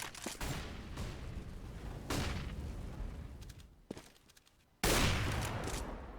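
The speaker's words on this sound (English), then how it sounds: "Nice shots here on middle from Twanu, taking down Simple" Rapid bursts of gunfire from a Counter-Strike match on the map Mirage, rifle volleys and sharp single shots crackling in clusters with brief pauses between them, loud and close.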